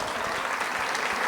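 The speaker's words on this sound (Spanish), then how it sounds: "ese fuerte aplauso para nuestra pregonera Nora" Dense, steady applause from a large crowd at a village festival proclamation, many hands clapping at once without a break.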